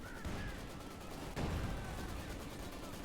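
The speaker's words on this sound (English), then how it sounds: "Got a field gun barrage off." Artillery barrage from a field gun in the Company of Heroes 2 war strategy game, a dense continuous rumble of battle with one heavier thump midway and steady explosive noise throughout.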